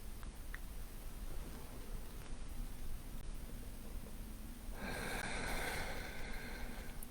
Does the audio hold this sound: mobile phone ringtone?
no